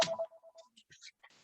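Mobile phone ringtone going off in an audience during an evening talk, a short electronic melody of quick tonal beeps and chirps, clear and fairly close.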